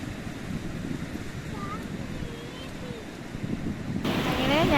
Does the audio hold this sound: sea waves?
yes